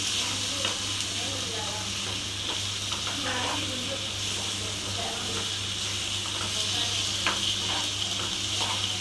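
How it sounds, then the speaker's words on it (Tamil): Goat liver sizzles steadily in a pan while being stirred, soft scraping strokes sounding over a continuous moderate frying hiss and a low background hum. "இப்போ ஈரலை நல்லா கிண்டி விட்டுக்குருவோம்."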